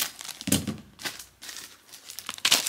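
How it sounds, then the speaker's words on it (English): Scissors snipping through a small plastic Ziploc bag of screws and nuts from a Petmate Get-A-Round cat carrier kit, heard as crinkly bursts and quick tearing crackles spaced over a few seconds, close by with no talk. "Cut open this bag with a pair of scissors."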